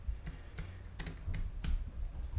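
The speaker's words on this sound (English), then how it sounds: "I can type anything" Soft, rapid key clicks from a keyboard connected to an iPhone, irregular typing taps close to the microphone in a quiet room.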